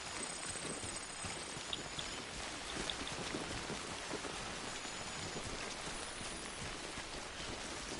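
Steady rain falls in the Death Stranding video game, a continuous soft hiss of drops on surfaces, even and fairly quiet throughout.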